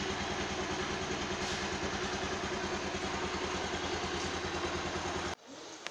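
A 550 cc motorcycle engine idles steadily at about 1000 RPM with a close, even, throbbing putter that runs alone, then cuts off abruptly near the end.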